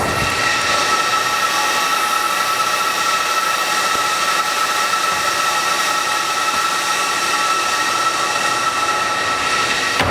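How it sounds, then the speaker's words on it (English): Cooling fans of high-power servers inside a data centre roar in a loud, steady, unbroken wash of noise, with faint tonal whines layered over the constant airflow. "most of that noise is generated from the fans"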